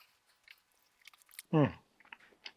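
A crispy, charcoal-grilled BBQ buffalo chicken wing is bitten into with a single loud crunch, close to the mic, followed by quieter chewing and small mouth noises.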